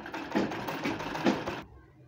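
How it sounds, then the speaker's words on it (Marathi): Sewing machine stitching fine piping onto cloth during dressmaking, a steady close mechanical whir with a few louder stitching pulses, stopping abruptly near the end. "इथे आपण आता अशा प्रकारे पूर्ण शिलाई मारून घेऊ."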